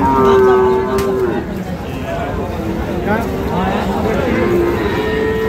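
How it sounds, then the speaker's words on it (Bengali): Cattle and bulls moo repeatedly at a busy rural cattle market in Bangladesh, several long lowing calls rising over constant crowd chatter and background noise. "এই যে এখানে গরুগুলো বাঁধা রয়েছে।"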